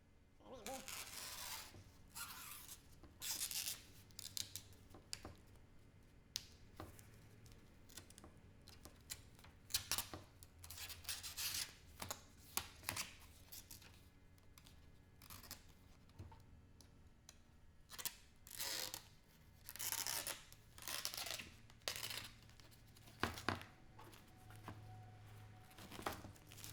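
Scissors cut through fabric covering on a Stewart Systems–covered Renegade aircraft rudder, giving faint, irregular snips and crinkling rustles over nearly half a minute, with a low hum underneath and occasional quiet talk.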